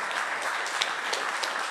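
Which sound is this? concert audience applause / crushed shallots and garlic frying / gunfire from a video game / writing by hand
concert audience applause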